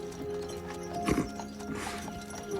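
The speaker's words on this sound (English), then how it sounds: "You're the one driving the horse." A horse-drawn carriage in the animated series Castlevania rolls along as the horse's hooves clip-clop softly in a short rhythmic run, faint under a low musical backdrop.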